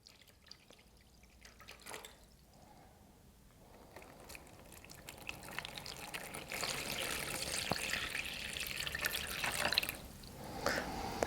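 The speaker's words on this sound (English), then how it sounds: "pour some water in each of the containers" Water is poured into several containers for a science experiment about ocean and climate, a soft trickle and splash up close that grows fuller partway through. The sound is quiet, with no talking.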